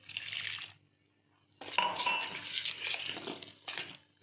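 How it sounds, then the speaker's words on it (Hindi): Water poured from a cup into a steel mixing bowl in a home kitchen, a close splashing, trickling rush that pauses briefly and then runs again for a few seconds, with no talking. "अब मैं ये जो 1 कप है इसमें पानी ऐड करूँगी।"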